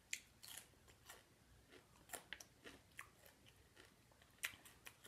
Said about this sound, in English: Cucumber is made for ASMR, huh? It's noisy.